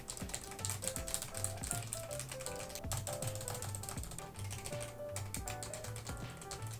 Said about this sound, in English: It is the Logitech TKL keyboard